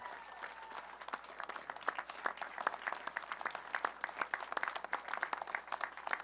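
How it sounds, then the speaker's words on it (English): Audience applause at a speech by President Trump in Grand Rapids, a fairly distant, faint wash of many hands clapping, with individual claps standing out, continuing steadily throughout. "give these people a big round of applause"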